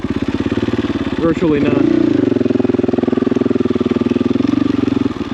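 A motorcycle engine runs loud and close on a narrow trail in Idaho, holding a steady throbbing idle with a brief throttle blip that swells and settles back into a continuous rumble.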